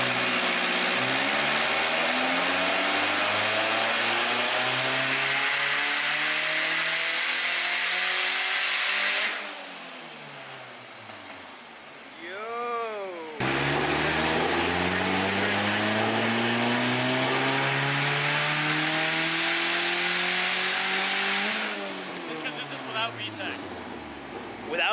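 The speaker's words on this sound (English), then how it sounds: "The Civic is on, boys." A turbocharged B20 Honda Civic engine revs on a dyno, climbing in long, loud pulls that drop off sharply, with a brief lower idle in between before another hard pull begins.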